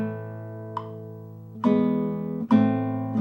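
Nylon-string guitar rolling a chord correctly in Milan's Pavane, each struck chord blooming from a quick low-to-high spread and ringing on; three attacks, the later two louder, played alone with no talk.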